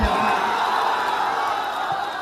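A large outdoor election rally crowd cheers and whoops in a sustained, dense roar, with overlapping shouts and a steady wash of voices.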